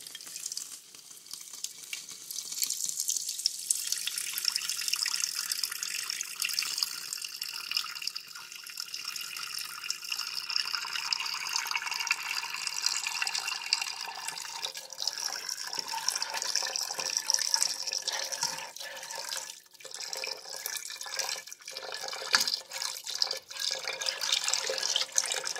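Chicken broth pours steadily into a pot for loaded potato soup, a continuous close, bright liquid rush with stirring and occasional clinks running under it throughout, no voices.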